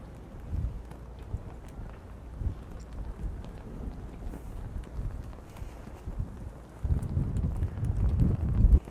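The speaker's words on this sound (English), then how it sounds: "And I'll try to keep my back pointed towards the wind." Wind buffets the microphone on the deck of a 40-metre Princess superyacht, giving a low, uneven rumble with gusts that swell louder toward the end.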